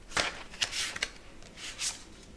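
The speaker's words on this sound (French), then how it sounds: "On va tirer ici une carte." A tarot card drawn from the deck, heard as a few quick papery swishes and slides of card against card, fairly close and soft in a quiet room.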